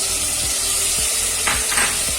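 Ground spice paste hitting hot oil with browned ginger garlic paste for mutton marag, a loud dense sizzle with a few low clunks of stirring against the pot, nobody talking.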